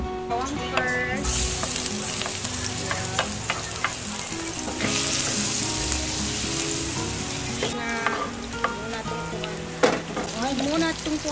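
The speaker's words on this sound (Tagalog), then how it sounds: "igigisa natin yung mga lamas natin. Bawang first." Garlic and aromatics sauté in oil in a frying pan for a Filipino dish, sizzling steadily and loudly throughout with occasional stirring scrapes and clinks.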